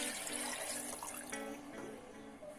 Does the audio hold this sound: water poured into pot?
yes